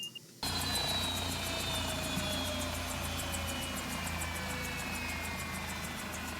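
Bell 407 helicopter turbine in X-Plane 12 winding down after the throttle is rolled to off, a loud steady whine with rapid rotor chop that slowly falls in pitch.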